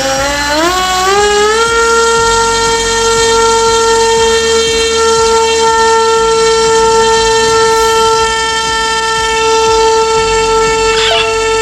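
A T-Hobby AM60 drone motor spools up over about two seconds into a loud, rising electric whine, then holds a steady, piercing high-pitched tone at full throttle close by.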